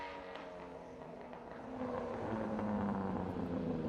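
A Chrysler Valiant with a 225 slant-six and push-button TorqueFlite automatic runs at the Historic Leyburn Sprints in Australia, its engine note swelling louder as the car approaches.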